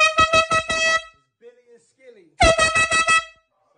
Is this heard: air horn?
yes